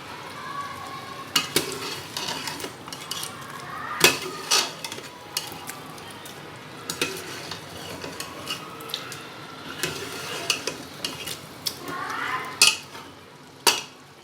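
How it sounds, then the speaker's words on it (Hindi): Chicken pieces with spices sizzle and fry in a pan over raised heat, with repeated scraping stirs and clinks of a utensil against the pan standing out over a steady crackle; no talking. "थोड़ी तेज़ आंच कर देते हैं ताकि ये भुने।"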